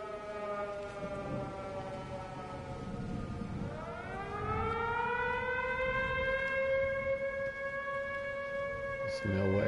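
A wailing siren in the video game Everybody's Gone To The Rapture, long tonal notes falling then rising again over about ten seconds, loud and sustained against a low rumbling background.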